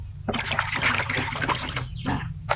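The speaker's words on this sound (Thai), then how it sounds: "ใส่น้ำยาปรับผ้านุ่มไปหนึ่งช้อนชาค่ะ" Fabric softener poured into a basin of plain water for hand-washing a school shirt: a steady watery trickle and splashing with brief pauses, close and moderately loud, no talking.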